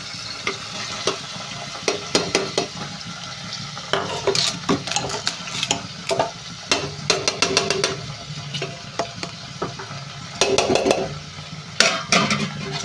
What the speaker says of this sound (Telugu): ఇప్పుడు పచ్చిమిరపకాయలు అనేది వేగిపోతున్నాయి కదండి ఇప్పుడు మనం తీసుకున్న దోసకాయ ముక్కలను అయితే వేసేస్తున్నాం